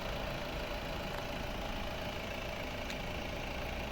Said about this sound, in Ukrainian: Тут у нас стоїть двохлітровий дизельний двигун Євро 6, новий двигун, 4-циліндровий